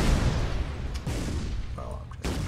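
Sticky bombs explode in the Shellshock Live video game, a series of booming bursts and pops amid game noise, with a person talking over them.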